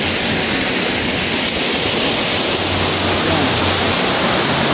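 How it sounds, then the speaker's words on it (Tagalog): Burong Falls, a small waterfall in Bulacan, pours in a steady broadband rush of falling water that fills the whole clip at a constant, close, loud level, with no voices over it. "Ito ang Burong Falls."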